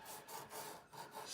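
220-grit sandpaper on a block is rubbed lightly back and forth across an ebony guitar fretboard, clearing super glue and ebony powder in soft, rhythmic rasping strokes, close and quiet.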